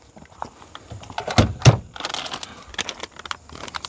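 Packaging for a PSA tank muzzle brake handled up close, with crinkling, cracking and rustling of wrapping and a couple of sharper thumps, moderately quiet with no talk.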